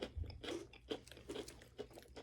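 Close, quiet crunching of dry food being chewed, a quick series of crisp bites over a couple of seconds.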